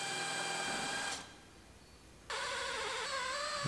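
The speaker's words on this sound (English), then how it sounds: "Drill all the spot welds off the D-pillar." A high-pitched power drill whines steadily drilling out spot welds on a GMC Yukon's D-pillar, stops for about a second, then starts again with a slightly lower tone, close by with no talking.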